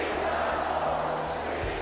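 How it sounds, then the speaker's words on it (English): Raucous home crowd at the Delta Center in Utah during an NBA Finals Game 6 between the Jazz and the Bulls: a dense, steady roar of cheering and shouting that holds loud throughout the short stretch. "Facing a raucous Utah crowd and a revitalized Jazz team, Scottie Pippen and the Bulls would be dealt"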